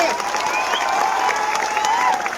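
Loud, dense applause and clapping from a large audience at a live Marathi rally or public gathering, a steady roar of hands with some cheering mixed in, sustained throughout.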